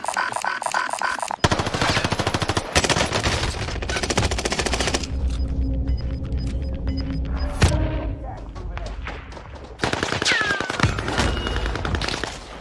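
An MG42 machine gun in Call of Duty Vanguard rattles off long, loud, rapid bursts close up, with booms and other gunfire between them and a voice talking over parts of it.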